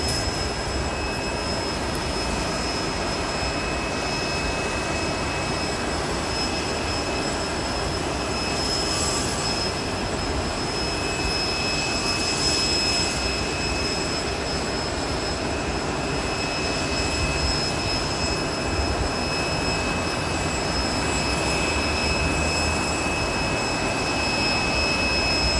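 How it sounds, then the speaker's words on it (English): Jet airliners taxi at Boise airport, heard as a loud, steady engine roar with a constant whine, with no break across the whole stretch. "We have the Delta taxiing out. We have a United right there, about to taxi out"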